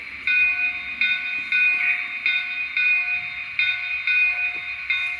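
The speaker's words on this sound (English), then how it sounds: "That bell's very high pitched too." A high-pitched bell on a simulated Bethlehem Steel 0-6-0 steam switcher rings in a steady rhythm, about two strokes per second, clear and close over a faint background hiss.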